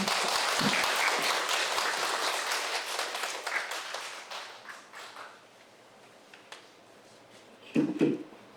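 An audience at a social work internship presentation event applauds to welcome a student presenter, a full round of clapping that gradually thins and dies away, followed by a couple of faint taps.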